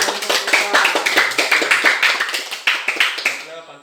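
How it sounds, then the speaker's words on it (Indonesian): Classroom applause for the boys' group in a junior high school lesson: a dense burst of many hands clapping in quick irregular rhythm for about four seconds, fairly loud and close, then tapering off quickly at the end. "tepuk tangan buat kelompok putra"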